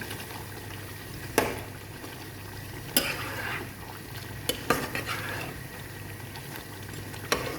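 Onions added to a pan and stirred while cooking beef tripe bhuna, soft sizzling frying under repeated scraping strokes and a few sharp clinks of utensil against the pan, with no voices.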